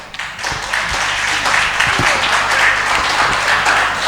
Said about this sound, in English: I think she deserves an applause.